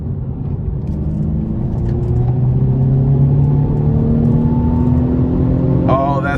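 A 2017 Mercedes-Benz C300 accelerates in Sport Plus mode onto an interstate, its engine rising steadily in pitch under a constant road rumble inside the cabin, with a brief tone near the end.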